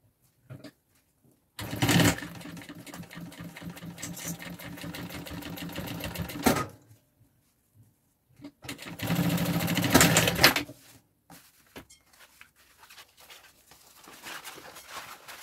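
A sewing machine stitches the lining to the bottom panel of a three-compartment baby daycare bag, running in two loud continuous bursts separated by a pause, with quieter handling noise toward the end.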